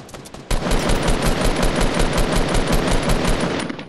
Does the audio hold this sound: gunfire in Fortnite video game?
yes